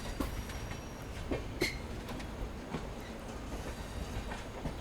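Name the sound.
train entering Tiruchirappalli Junction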